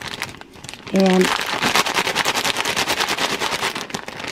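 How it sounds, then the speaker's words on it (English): Cooked bacon is rubbed back and forth inside a plastic zippered lunch bag, making loud, rapid crinkling and crunching in a steady scrubbing rhythm, close to the mic, after a brief tone and a spoken word. "if you rub it back and forth like you're doing laundry, it crumbles it without the mess"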